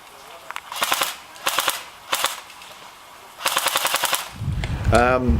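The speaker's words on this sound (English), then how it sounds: "Rate of fire isn't huge out of it, but it's more than acceptable." Classic Army M15 A4 RIS airsoft carbine with electric blowback firing in several short bursts of rapid mechanical clicks, loud and near, followed by a person speaking at the end.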